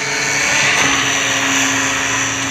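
Gaui 550 radio-controlled helicopter in flight, a steady loud rotor buzz with a high motor whine held throughout, close and continuous with no voices.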